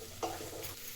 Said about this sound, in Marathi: हे सगळं ना चांगलं परतून घ्यायचं.